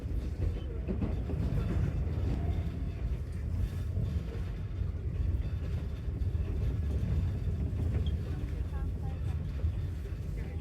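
A train runs along the Enoshima coast in Japan, heard from inside as a steady low rumble and rolling wheel noise that continues throughout, with faint voices in the background.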